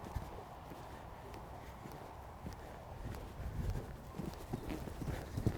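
A horse approaches a fence jump at a riding lesson, its hooves thudding in a steady, growing rhythm over soft ground, close and moderate in level, with low rumbling movement throughout.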